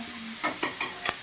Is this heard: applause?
no